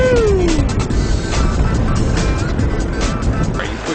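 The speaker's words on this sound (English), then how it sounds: "you put your foot on the accelerator and the thing goes immediately" Electric car accelerating hard, a steady loud road and drivetrain roar with a rising whine early on, continuous throughout.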